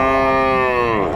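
A heifer calf at a cattle and goat market lets out one loud, sustained, close moo with a rich tonal drone that dips slightly at the end, with no talk over it.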